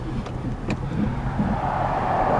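A 2002 Chrysler Town & Country minivan drives forward, giving a steady low engine and road rumble at close range, with a few faint clicks and a slight rise in hum toward the end.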